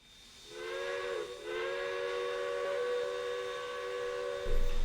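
A Western Pacific Mallet Challenger steam locomotive sounds its whistle, a short chime-like blast followed by a long, sustained multi-note tone over a steady background hiss of steam, clear and fairly loud.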